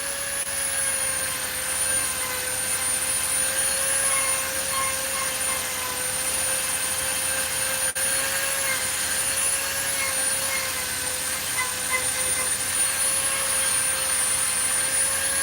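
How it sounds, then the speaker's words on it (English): A Dremel rotary tool spins at high speed, giving off a constant, even whine with a thin high tone that holds steady and unbroken for the whole stretch at moderate loudness. "This is a Dremel tool. It is a rotary tool."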